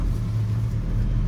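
A 1951 Chevy truck's engine heard from inside while driving along, a steady low rumble with a constant droning hum and no change in pace, continuous and fairly loud.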